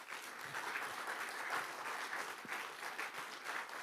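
An audience at a local election candidates' debate in Buitenpost applauds, a steady even wash of many hands clapping at moderate distance, sustained for the whole stretch without talk.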